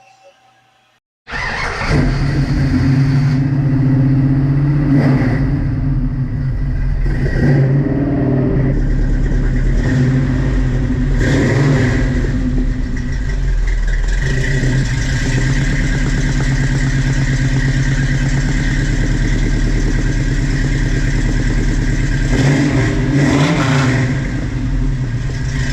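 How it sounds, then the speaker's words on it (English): Ford Mustang V8 engine revving loudly through newly fitted mufflers and exhaust, starting up and then holding a steady, rumbling idle with repeated throttle blips, close and continuous for the full length with no talk. "We're just working on connecting the collector to this pipe right here, and we should be able to test the exhaust out."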